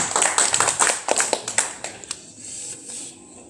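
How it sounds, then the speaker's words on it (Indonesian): A church congregation claps at a sermon gathering, a run of sharp uneven claps that thins out and trails into a few scattered faint taps. "Tepuk tangan untuk Tuhan."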